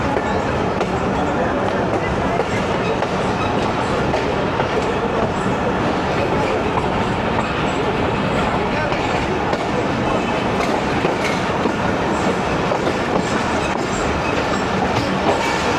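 Inside a moving 14DN Awam Express passenger train between Rawalpindi and Lahore, a constant loud rumble and rattle of carriages fills the air with faint wheel clatter, steady and unbroken.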